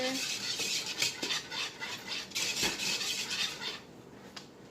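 Whisk beating flour mixture into cake batter in a bowl, a fast run of light metallic clinks and swishes against the bowl, close and fairly soft with no talk over it.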